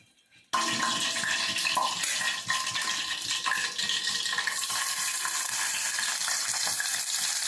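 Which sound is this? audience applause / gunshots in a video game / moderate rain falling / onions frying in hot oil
onions frying in hot oil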